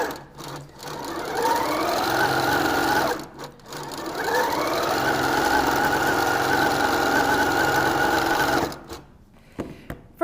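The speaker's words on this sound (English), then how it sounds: "we are just going to sew all of this together using our 1/4 inch seam allowance" A sewing machine stitches jelly roll quilt strips together with a quarter-inch seam, running in a long, steady, fast-whirring burst, stopping briefly, then running again for several seconds before halting, loud and close with no talk.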